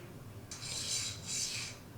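A knife stroked across a 600 grit diamond plate, two close, soft rasping passes in quick succession, gritty scraping with a brief dip between, quiet and alone.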